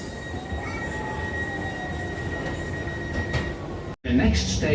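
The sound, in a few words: metro train running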